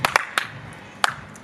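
A few scattered claps from a small audience at a music group's interview, sharp isolated hand strikes, some close together, with quiet gaps between.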